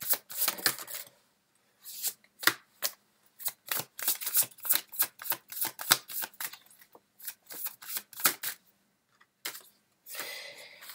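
Tarot cards shuffled and drawn by hand, a close, quiet run of crisp flicks and soft slaps in irregular bursts with small pauses between.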